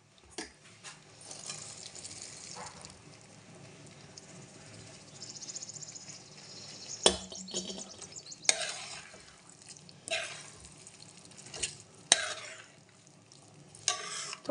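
Peas are stirred into potatoes frying in a pan, with scraping spoon strokes and clinks against the pan over a faint background sizzle, close by and irregular.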